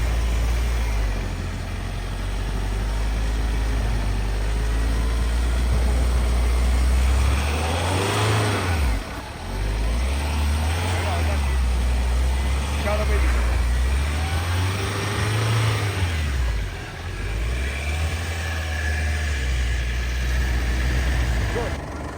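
A car stuck in snow revs its engine in repeated surges, rising and falling in long cycles while people talk and call out nearby.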